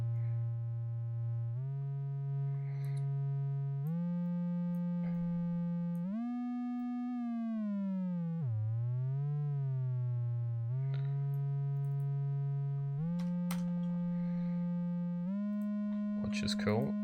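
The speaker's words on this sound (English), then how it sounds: "oscillator 1, I've got this set to triangle wave, so that's what you can hear in the when I hit play." A synthesizer oscillator set to a triangle wave plays an arpeggio of clean sustained tones that step up and down in pitch, with one swooping bend midway, heard alone and steady throughout.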